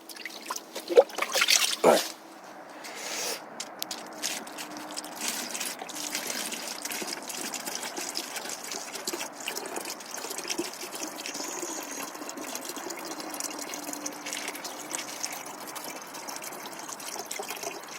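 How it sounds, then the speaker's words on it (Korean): Small trickle of spring water from a mountain spring well deep in the forest, a steady, faint dribble under low outdoor ambience, with a brief louder splash or handling noise near the start. "여기가 물은 그렇게 많이 안 나도 음, 하루에 페트병으로 다섯 병 정도 음, 이렇게 가물 때도 마르지 않고 꾸준히 나와"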